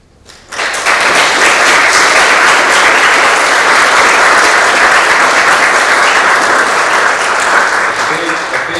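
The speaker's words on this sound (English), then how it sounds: "Huge applause for all these great students." A large audience at a school leadership awards ceremony breaks into loud, sustained applause for student honorees, a dense wash of clapping that starts abruptly and holds strong throughout.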